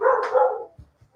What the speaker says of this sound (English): Well, that's a dog.